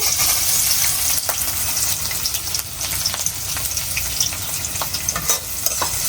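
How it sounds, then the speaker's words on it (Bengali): Chopped onion and green chili frying in hot oil, a loud continuous close sizzle with stirring scrapes and small pops throughout. "এখন পেঁয়াজ কুচি আর কাঁচা মরিচ কুচি দিয়ে দিতেছি"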